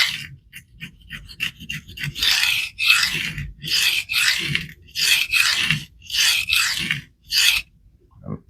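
A CPM S3 steel knife blade is stroked across a coarse 120 grit resin diamond stone, giving close, steady raspy scrapes in repeated back-and-forth passes, some short and quick, others longer and heavier.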